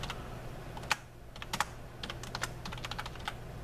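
Fingers tap out irregular keystrokes on a computer keyboard, close and fairly clear, with short bursts of clicks and a couple of sharper key hits against a quiet room hum.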